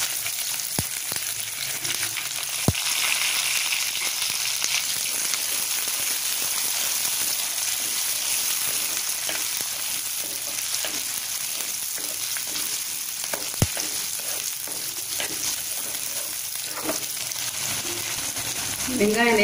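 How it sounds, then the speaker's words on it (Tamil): About 100 g of coarsely cut small onions fry in a pan with curry leaves for a fenugreek kuzhambu, giving a continuous even sizzle like light rain, with occasional sharp clicks and faint stirring throughout. "நான் சின்ன வெங்காயம் ஒரு 100 கிராம் சின்ன வெங்காயம் எடுத்து நல்லா அந்த மாதிரி பெருசு பெருசாக கட் பண்ணியிருக்கேன். வெங்காயத்தை சேர்த்துறேன்"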